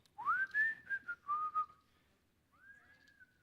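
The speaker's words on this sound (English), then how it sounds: "Can anyone whistle?" A person whistles a rising, sustained tune in a few short connected notes, then pauses and whistles one more rising note, fairly close and clear with no talking over it.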